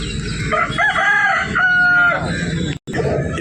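A rooster crows loudly and close by at a village poultry market in J Mamidada, one long drawn-out call with rising and falling pitch, followed by a brief cut and continued background noise.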